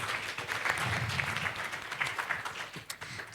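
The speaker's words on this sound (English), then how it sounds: "Please give her a round of applause." An audience at a digital health symposium applauds continuously, a dense wash of clapping at moderate distance that holds steady before tapering slightly.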